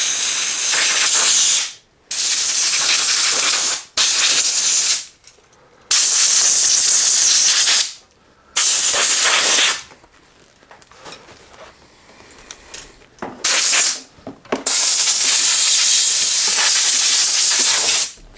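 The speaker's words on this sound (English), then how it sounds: "the compressed air gets that out of all the nooks and crannies" Compressed air blasts dust off a Giant Cypress bicycle, aimed into its nooks and crannies. Loud hissing bursts come in repeated spurts separated by short pauses, with quieter stretches partway through.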